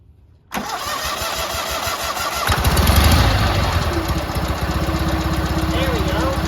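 A big riding mower's engine turns over briefly, catches and fires, then settles into a loud, steady idle with a rough, throbbing note; no talking during the run.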